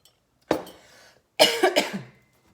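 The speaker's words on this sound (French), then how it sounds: "J'ai pas toussé tout le long et je tousse après" A woman coughs close up, one harsh cough, then after a pause a rough burst of several coughs trailing into throat clearing.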